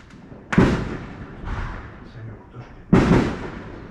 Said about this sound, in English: you're gonna have to ignore the fireworks in the background